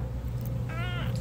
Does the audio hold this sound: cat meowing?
yes